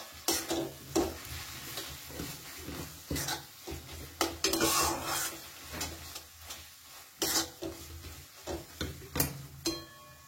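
A spatula scrapes and stirs onion and poppy seed paste in a pan over a very low gas flame, giving repeated irregular scraping strokes with a soft sizzle underneath, fairly close and fairly quiet.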